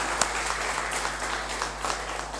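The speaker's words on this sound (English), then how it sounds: "We welcome sir with the clapping of hands." An audience claps in welcome at a GST conference, steady, dense applause held for the whole stretch at even loudness.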